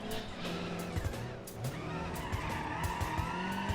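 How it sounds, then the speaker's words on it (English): Car drifting in the BeamNG driving game, tires squealing in sustained, wavering screeches over a steady engine drone, loud and close throughout. "Alright, now we can drift it."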